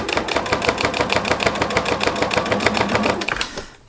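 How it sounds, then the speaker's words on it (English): Sewing machine stitching along the edge of a thick jelly roll fabric rug, a loud close rapid rhythmic whir and needle clatter running steadily before slowing to a stop. "So I'm sewing along the edge here."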